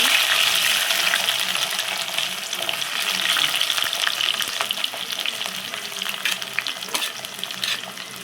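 Oil sizzles and crackles loudly in a pan as small shallots fry, with steady hissing and scattered pops close by.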